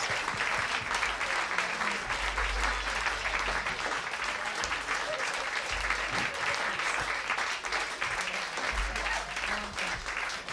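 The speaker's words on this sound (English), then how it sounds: "Round of applause." An audience applauds warmly after a jazz band finishes a performance, producing dense, sustained clapping that fills the whole stretch at steady loudness without voices rising above it.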